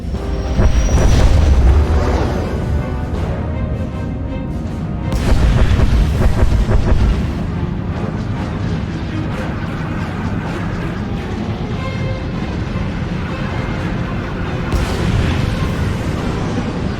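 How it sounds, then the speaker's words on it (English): Space bombardment in the game SWTOR, with heavy booming explosions rolling one after another, loud and continuous, with bigger blasts early on and near the end. "Proceeding with bombardment, targeting all major population centers."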